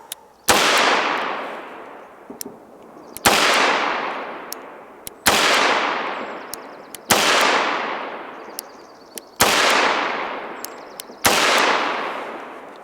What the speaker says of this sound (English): Once again, Ruger Match Champion, 10 yards. Shoot on that bottom target